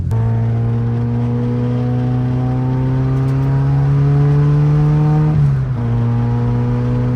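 A car engine hums steadily and loud, its pitch rising slowly as it revs higher, with a brief dip near the end.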